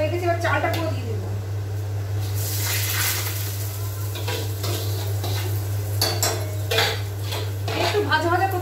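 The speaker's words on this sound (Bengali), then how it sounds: "চালটা অনেকক্ষণ ধরে ভাজতে হবে" Rice is stirred and fried in a wok for pulao, giving scraping spoon-on-metal clatters and a soft sizzle at close range over a steady low hum.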